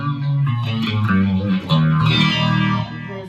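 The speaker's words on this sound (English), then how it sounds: "here's what it sounds like when you add a phase 90 to the mix." A distorted electric guitar played through a Phase 90 phaser pedal, with a swirling, rotary-like sweep over sustained chords and bent notes, loud and close with no talking.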